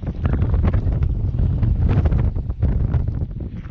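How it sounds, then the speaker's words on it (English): Strong gusting wind beside a trout stream, roaring and buffeting close against the microphone in uneven bursts with no pause. "That's a serious wind right there."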